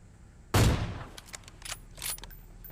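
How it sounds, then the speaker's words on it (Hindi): An AWM sniper rifle shot in the PUBG Mobile game, one sharp loud crack with a decaying echo, followed by faint in-game clicks and clatter. "यहाँ पे मैं AWM का एक शॉट मारता हूँ जो कि मिस हो जाता है"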